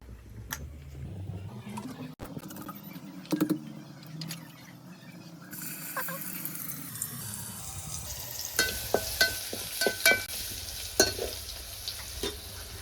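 Oil and asafoetida sizzle in a cooking pan over a chulha, a steady close frying hiss with scattered clinks and stirring knocks building toward the end.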